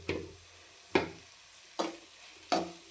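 Okra fries in plenty of oil under a soft steady sizzle, punctuated by four or five sharp stirring scrapes spaced about a second apart.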